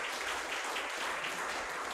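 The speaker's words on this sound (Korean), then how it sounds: "박수 한번 부탁드리겠습니다." A conference audience at a spring academic symposium on sports law applauds to welcome a presenter, a soft, even patter of clapping heard from a distance throughout.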